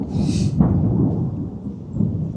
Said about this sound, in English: You guys hear that? I think this is going to be the storm of all storms.